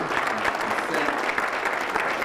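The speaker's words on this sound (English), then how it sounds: "Give the police department, its leadership, a round of applause." A large audience at a city address gives sustained, thick applause for the police department, a continuous roar of many hands clapping at fairly high, even volume with no voice over it.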